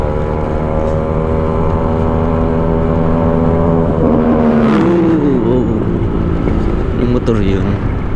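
A motorcycle engine runs steadily throughout, loud and close with a droning low hum and rising and falling harmonic whines as the revs shift, with talk partly over it.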